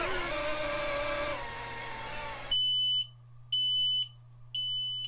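A steady whirring hum cuts off abruptly as a drone's controller is switched off, then a loud high-pitched failsafe beep repeats three times in regular pulses over a faint low drone.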